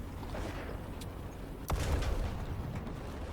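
A bomb dropped from an aircraft explodes in the tank battle game War Thunder, a single muffled boom with a low rumble that lingers over quiet background noise.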